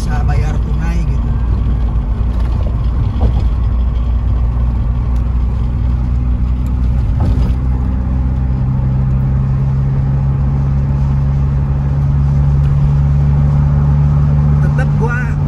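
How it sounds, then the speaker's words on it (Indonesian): Interior of a 1991 BMW E30 with an M40 engine cruising at about 90 km/h on a toll road, a loud, steady low engine and road drone throughout. "Tetap gue kasih kecepatan mobil ini di angka 90 km"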